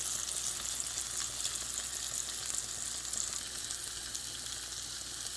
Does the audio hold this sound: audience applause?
no